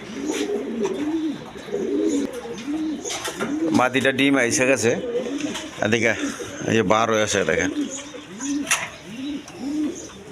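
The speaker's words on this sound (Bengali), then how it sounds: "এখানে এক পেয়ার শর্ট ফেস কবুতর আছে দেখেন" Short-faced pigeons coo in repeated soft, rolling calls close by in a loft with pots for nesting, the cooing running throughout beneath someone talking.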